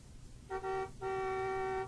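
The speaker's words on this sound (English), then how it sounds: "Martha's heart leapt as she heard the car honking outside." Car horn honking outside in a rainy night scene of a horror audiobook, a short toot followed by a longer sustained blare, clear tonal honks over faint background hiss.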